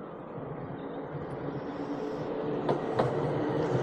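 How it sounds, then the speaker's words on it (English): A Blackpool tram rolls past during the Illuminations, a steady rumbling hum that swells as it nears, with a couple of sharp rail clanks near the end and no speech. "we got that tram coming back, going back into Blackpool"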